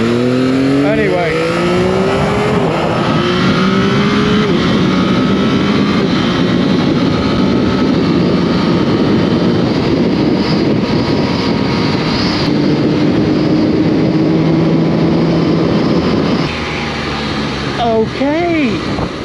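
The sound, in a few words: Yamaha XSR 900 GP motorcycle engine accelerating during test ride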